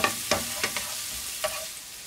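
Butter lands in a hot pot while fish soup is being made, giving a soft sizzle broken by a few sharp clinks and scrapes of a utensil against the pot. The sounds are quiet and close.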